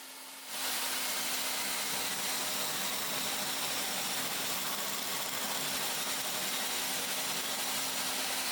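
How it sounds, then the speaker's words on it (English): A table saw cuts through a spinning wooden jig, the loud, steady whine and roar of the blade and cut starting abruptly and holding for several seconds. "I slowly guided the spinning jig through the table saw"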